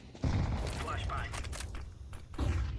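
In a video game, a flashbang grenade goes off with a sudden loud crack and a sustained noisy wash, then another sharp burst near the end, amid clattering in-game effects and background talk.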